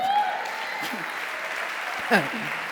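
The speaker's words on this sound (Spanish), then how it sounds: "Dale un aplauso al Señor, amén." Applause rises from a church congregation during a sermon, a soft diffuse wash of clapping heard at a distance beneath a voice that speaks briefly over it.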